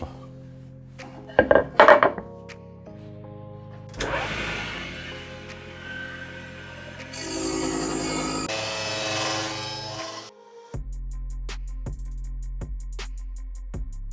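A router with a 12 mm straight bit whines and roars while cutting oak boards, with shifting grinding tones, a few knocks and handling noises, then a low motor hum.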